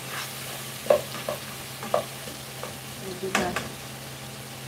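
Tomatoes are stirred in a frying pan with a few scattered scraping and clacking strokes over a soft sizzle, near and moderately loud, with a brief spoken word.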